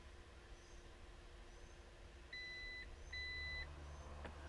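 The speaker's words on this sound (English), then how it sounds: "hold down the button on the left and listen for the beeps" A 2022 Volvo XC60 B6 R-Design lift gate gives two short electronic confirmation beeps after its height is set, clear but modest, over a low steady background rumble, with a faint click near the end.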